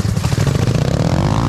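A motorized shopping cart's engine roars loud and close, revving with a harsh rattling buzz as it speeds up and the pitch climbs steadily.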